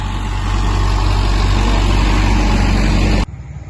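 A farm tractor's diesel engine runs steadily and loud nearby with a deep idling rumble, then cuts off abruptly near the end, leaving a quiet low hum.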